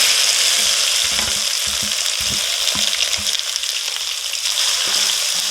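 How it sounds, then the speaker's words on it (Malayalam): Finely chopped okra sizzles steadily in hot coconut oil where mustard seeds have just finished popping, with occasional scraping and tapping as it is stirred in the pan. "നമുക്കിനി ചെറുതായി അരിഞ്ഞ് വെച്ചിരിക്കുന്ന വെണ്ടയ്ക്ക ഇട്ട് കൊടുക്കാം"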